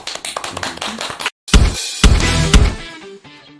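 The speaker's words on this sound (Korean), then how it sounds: "박수." A few people clap in sharp, close bursts during a shamanic gut ritual session, with a brief silent gap before a louder second round that trails off.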